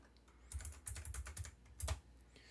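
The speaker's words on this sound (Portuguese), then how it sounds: "e eu digitar aqui MATLAB" Fingers type MATLAB on a computer keyboard in a quiet room, a quick burst of soft, close key clicks with brief pauses, ending in one firmer keystroke.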